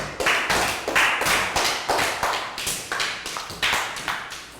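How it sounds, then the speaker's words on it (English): Small group of children clapping in a classroom math lesson, a steady run of sharp, close hand claps in rhythmic bursts, loud and without talk. "Round of applause for Net."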